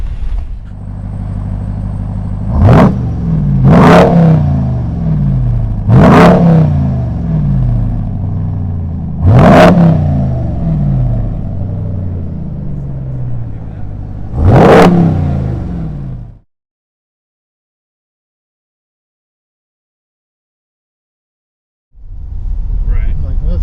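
A Jeep Grand Cherokee L engine, held around 3,000 RPM during off-road driving, roars steadily with five sharp surging rev peaks before falling silent, then picks up again at the end.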